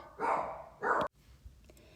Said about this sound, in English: I think my dog was barking at the garbage man.